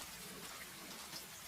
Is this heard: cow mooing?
no